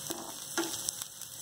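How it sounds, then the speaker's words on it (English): Vegetables for veg Chinese fried rice fry in a hot pan, giving a continuous close sizzle with a few brief stirring clicks. "So you can see the vegetables are frying over here."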